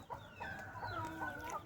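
Chickens cluck and fuss continuously at close range, overlapping calls with a low background rumble.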